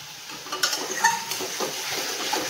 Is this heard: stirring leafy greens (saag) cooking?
yes